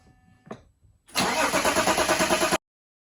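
A BMW E60 with the 3-litre M57D30N2 diesel starting up, run without coolant: a short crank, then the engine catches into a loud, even idle and cuts off abruptly after about a second and a half.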